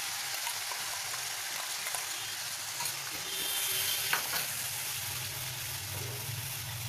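Mustard paste and spices are stirred into chital fish curry in a hot frying pan, producing a continuous bright sizzle with occasional scraping and stirring knocks.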